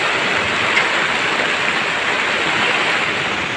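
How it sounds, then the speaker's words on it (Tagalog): Heavy rain pours down during a squall on the open sea, a dense, unbroken hiss of water drumming steadily at close range, with no voices or other sounds. "Lakas yung ulan."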